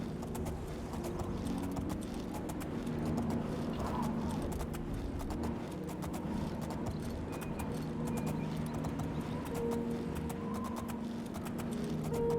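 A horse gallops in the video game Oblivion, steady rapid hoofbeats clip-clopping throughout over a low ambient game backdrop, with occasional tonal game sounds and no talking.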